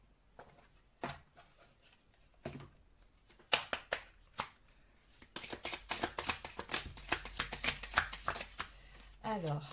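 Oracle cards being shuffled for a tarot reading: a few scattered taps and handling sounds at first, then a long, dense run of riffling and flicking, close and crisp.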